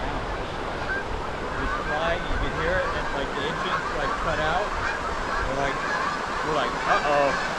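Geese honk repeatedly in a loose, overlapping chorus above a steady wash of surf and water noise, the calls coming in irregular bursts at moderate distance throughout.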